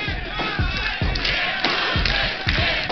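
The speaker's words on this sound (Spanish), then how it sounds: "Está acá, un aplauso" A crowd at a live show cheers and shouts together, loud and close, over a regular thumping beat with music underneath.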